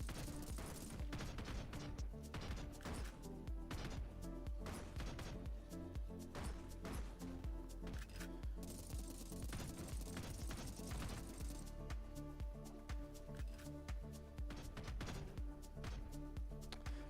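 Sustained machine gun fire in a video game, a dense continuous rattle of rapid shots that runs steadily throughout at a loud, close level.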